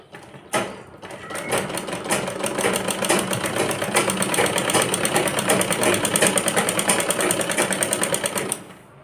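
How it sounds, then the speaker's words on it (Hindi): A sewing machine stitches gathers into a skirt for a 12-year-old girl, opening with a sharp click and then running steadily at fast, even, rattling speed for about eight seconds before stopping, close up and without talk. "अब सिलाई लगाना स्टार्ट करेंगे तो चुन्नट अपने आप बनना स्टार्ट हो जाएंगी"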